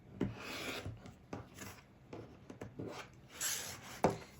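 A quilt block being trimmed along a straight ruler: a series of close, dry rasping cutting strokes, each brief, coming in an uneven rhythm with a sharper tick near the end.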